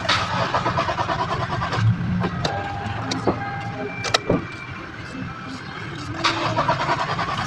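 A 2017 Toyota Fortuner with an immobilizer fault cranks but fails to start. Several short clicks and cranking bursts sound close by, with a sharp click near the middle, then the engine goes quiet.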